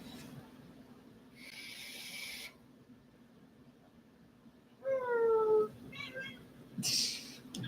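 Outdoor cats at a home, one letting out a near, clear meow of rising and falling pitch for under a second, followed by shorter chirps and faint rustling, with no talk.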